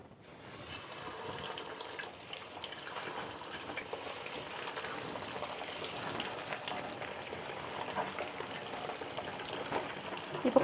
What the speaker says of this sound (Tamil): இப்போ நம்ம ஒவ்வொரு பீஸாக எடுத்து இதில் போட்டு நம்ம இதை ஃப்ரை பண்ணிக்கலாம்.